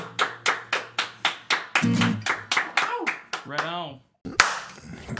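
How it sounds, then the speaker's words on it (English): A run of sharp, evenly spaced hand claps, close and loud, about a dozen in steady rhythm, followed by a brief vocal sound and a short pause before more sound resumes. "clap"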